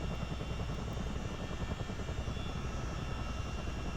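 CH-47 Chinook helicopter engines running steadily in a flight simulator, a loud continuous turbine whine over deep rotor thrum and rumble, unchanging and alone with no talking.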